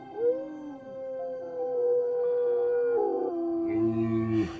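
Several wolves howl together in long, rising and wavering tones that overlap into a layered chorus, clear and fairly close, with no talking.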